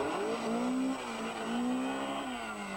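A 1986 rear-wheel-drive Toyota rally car runs hard at a Canberra rally sprint. The engine note rises and dips steadily with no pauses, loud and close, and no one speaks.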